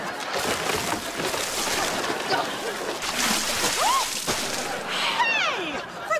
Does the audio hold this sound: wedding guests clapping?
no